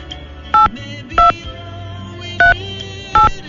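Touch-tone telephone keypad dialing a number: four clear, evenly spaced DTMF beeps, loud and close, over a low background hum without speech.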